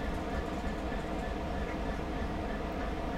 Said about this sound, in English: That's the train we're waiting for, I'm guessing.